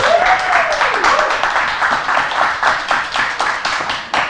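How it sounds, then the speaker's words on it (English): An audience at a talk on methane and climate change gives a brief round of applause, dense clapping that lasts about four seconds, with a short rising tone at the start. "Big round of applause for Dave,"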